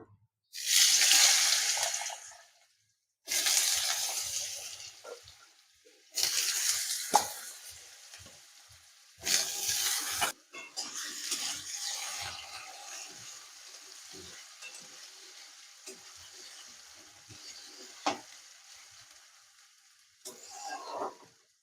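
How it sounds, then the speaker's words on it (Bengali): Small diced pieces of one medium potato dropped into hot oil in a pan, giving loud bursts of sizzling frying broken by stirring, then a steadier, quieter crackle, close up with no talking. "আলুটাকে আমি 2-3 মিনিট ভেজে নেব।"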